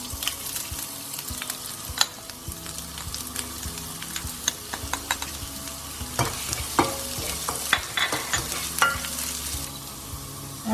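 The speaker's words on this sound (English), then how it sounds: "Heat your pan up and add some oil. We're going to add our ginger and garlic." Ginger and garlic fry in hot oil in a pan for vegetable fried rice, a continuous close sizzle broken by frequent sharp clicks and scrapes of a spatula stirring, steady and moderately loud with no voices.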